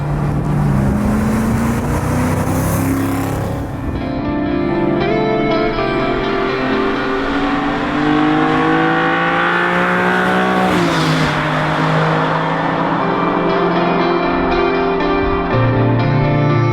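BMW sports car engine (Z8 or M3 CSL) pulling steadily while driving, a continuous loud harmonic drone that rises and shifts with the revs over about seventeen seconds, with no talking.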